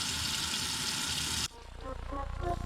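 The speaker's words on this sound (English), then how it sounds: "Hey, my shrimp are cooking." Shrimp fry in a pan with a close, steady sizzling hiss that cuts off abruptly partway through, after which a voice is heard speaking.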